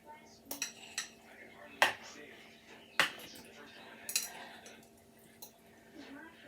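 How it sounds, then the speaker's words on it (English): Avocado dropping into a bowl for guacamole, a few sharp clattering knocks against the dish and utensil clinks spread over several seconds, close by with low background hum. "Now the avocado's going in the bowl."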